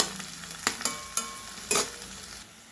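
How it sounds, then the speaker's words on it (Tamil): Onions and whole green chilies sautéing in a pan for a fish curry, with a soft steady sizzle and a few sharp stirring clatters of a spoon against the pan. "பச்சை மிளகா கீராமல் முழுசாக தான் ஆட் பண்ணியிருக்கேன். ஃப்ளேவருக்காக இது நல்லா வதங்கட்டும்."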